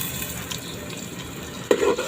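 Ginger garlic paste frying in a pan for chicken curry, a low steady sizzle with light stirring, then a brief louder scrape or splash near the end, close and without any speech.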